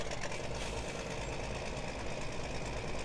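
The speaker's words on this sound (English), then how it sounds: "I love this tractor." A tractor engine runs steadily in Farming Simulator 2017, a continuous mechanical drone with rattling, knocking texture that holds at an even level throughout, with no talking.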